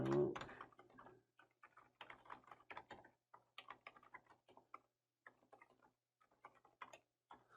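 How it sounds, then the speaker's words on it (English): Typing on a computer keyboard while composing a message in Microsoft Teams: quiet, close, irregular bursts of key clicks with short pauses between words, alone and without talk. "And then I would type in my text."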